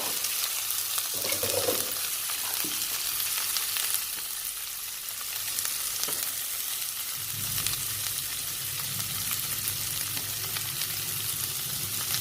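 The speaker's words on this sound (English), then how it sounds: "to this I am going to add chilies that I just now cut" Freshly cut chilies frying with tofu in a pan, a steady close sizzle with stirring scrapes running throughout, a louder crackle rising near the end as they hit the hot oil.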